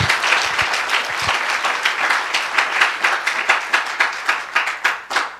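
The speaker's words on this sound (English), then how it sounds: "Let's give them a round of applause as well" At a Christian academy Christmas event, an audience applauds the piano players. The clapping starts full and dense, then thins into fewer, more distinct claps toward the end.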